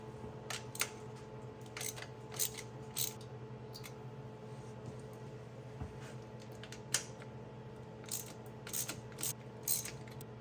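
Nuts and washers being worked off the mounting studs of a Holley carburetor on a 1967 Camaro, giving scattered small metallic clicks and ratchety taps over a steady low hum, close and fairly quiet.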